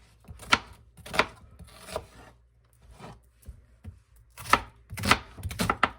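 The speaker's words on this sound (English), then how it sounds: "So what I'm gonna do first is just cut up me an onion." A knife chops through a whole onion on a cutting board, giving sharp, close thuds in uneven clusters with short quiet gaps between groups of strokes.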